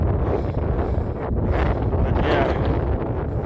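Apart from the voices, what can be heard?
wind noise on microphone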